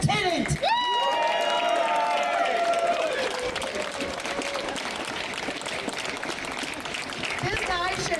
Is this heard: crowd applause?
yes